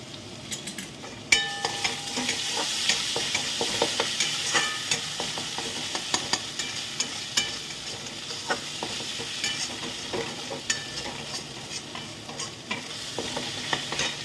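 Chital fish muitha mixture frying with freshly grated garlic in a pan, a constant crackling sizzle under frequent sharp clicks and scrapes of a utensil stirring, close up with no speech.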